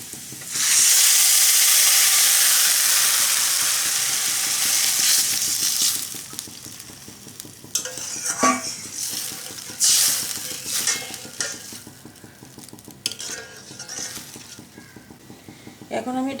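Water poured into red lentils frying in a pan sets off a loud, hissing sizzle that eases after a few seconds, followed by intermittent scraping and stirring, with a voice heard faintly at points.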